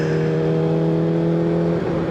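A 1989 Honda CBR400R 400cc motorcycle engine holds a steady, loud, high-revving whine as the throttle is twisted, a continuous tonal drone close by with no voices.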